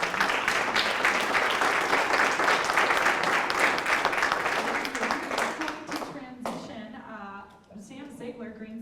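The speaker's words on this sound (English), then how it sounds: "Let's give them a round of applause." An event audience applauds panelists in a full round of clapping that holds steady, then thins out toward the end as a voice begins speaking.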